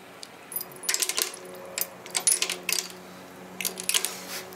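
Chunks of rust and debris poured and shaken out of Puch Maxi moped parts, heard as a series of sharp, close metallic rattling and clattering bursts in irregular clusters.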